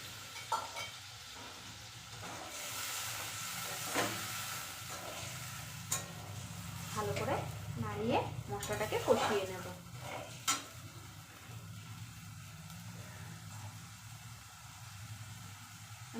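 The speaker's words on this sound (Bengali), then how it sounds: "মশলা বাটি ধোয়া জলটা দিয়ে দেবো" Spice-bowl rinse water is poured into a hot pan, bringing a close steady sizzle with stirring scrapes, a louder bubbling burst midway and a gradual settle.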